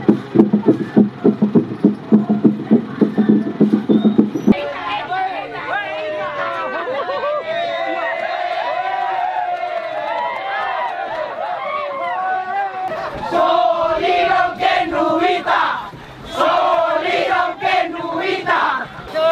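A festive crowd at a Toraja funeral procession in Indonesia cheers, laughs and shouts in a loud, lively mass of voices, with rhythmic chanting at first and bursts of whooping later.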